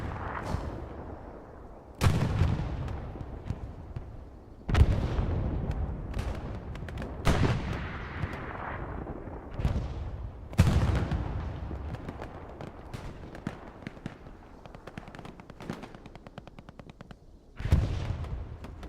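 Heavy explosions from a bombing run in Hell Let Loose boom in a series of deep, rolling blasts every few seconds, layered over constant distant battle rumble and scattered gunfire, with no voices.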